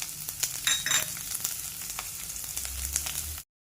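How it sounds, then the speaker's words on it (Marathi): A large chopped onion fries in half a spoon of oil in a pan, crackling sizzle punctuated by several clinking stirs of a spoon, close up, then cutting off abruptly to silence. "कांदा व्यवस्थित छान परतून घ्यायचा आहे"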